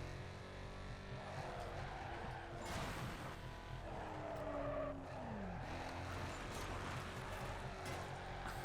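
A car drifting along a canyon road in Need for Speed: Carbon on Xbox 360, a continuous engine drone with tire squeal and scraping against a wall, steady and fairly even throughout.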